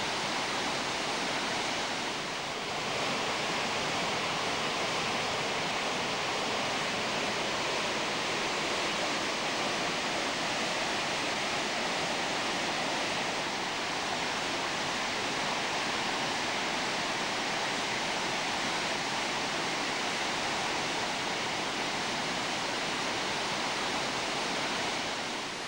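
A waterfall pours steadily inside a canyon in Quebec, a continuous broadband roar of falling water that stays even and fairly strong throughout, with no voices over it.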